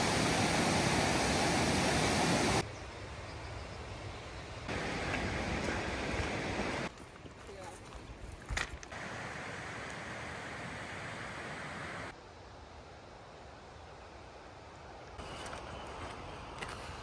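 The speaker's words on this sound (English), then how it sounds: "We came to our first bridge crossing over the stream." A stream rushes steadily beneath a bridge along a backcountry hiking trail, a loud continuous roar of flowing water that shifts in level a few times, with no voices.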